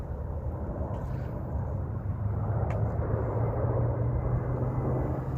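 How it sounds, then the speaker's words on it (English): A low-flying airplane roars over a park in Las Vegas, a steady broadband engine rumble that swells slightly louder toward the end, heard alone without speech. "Here comes an airplane. They're coming in hot and coming in low."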